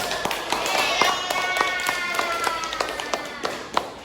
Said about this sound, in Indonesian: Oke, semuanya tepuk tangan dulu.